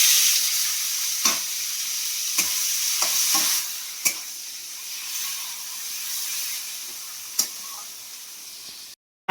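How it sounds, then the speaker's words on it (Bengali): Onions frying in oil in a pan for a spicy egg curry, a steady close sizzle with a few sharp clicks of a spatula stirring and scraping, no voices. "পেঁয়াজগুলো মোটামুটি ভাজা হয়ে গেছে।"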